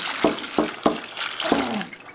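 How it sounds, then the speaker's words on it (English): Water is poured into hash trimmings in short splashing bursts, about four in quick succession, close and fairly loud, ending in a trailing gurgle. "Add a little bit more water."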